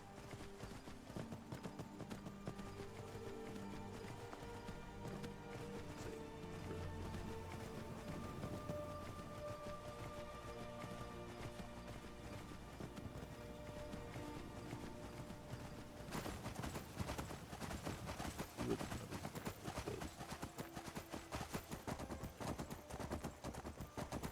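Rapid clip-clop of horse hooves in Skyrim, steady and continuous, mixed with game sounds and bursts of gunfire.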